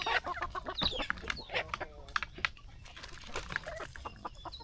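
Hens cluck steadily nearby while a crossbreed rooster calls now and then, a busy morning farmyard chorus with no talking.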